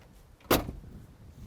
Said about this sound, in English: I love the sound of the door shut.